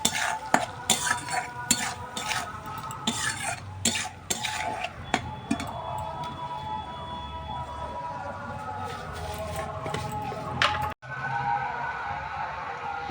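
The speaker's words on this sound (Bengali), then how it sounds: "এরপর দিয়ে দেবো ছাড়ানো চিংড়ি মাছগুলো। আমি চিংড়ি মাছটা সবসময় চেষ্টা করি মশলার সাথে দেওয়ার জন্যে" Peeled prawns frying in spice paste, stirred vigorously with a utensil scraping and clattering against the pan over a crackling sizzle; the stirring eases off toward the end after a brief drop-out.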